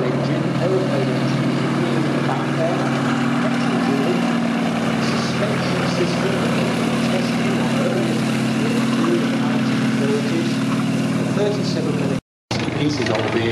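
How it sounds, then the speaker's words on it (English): The radial aircraft engine of an early M3 Stuart light tank runs with a loud, continuous droning hum, heard throughout under someone talking, with a brief cut near the end. "radial engine, aeroplane engine"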